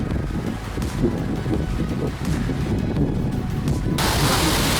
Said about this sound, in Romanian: este un vânt foarte puternic astăzi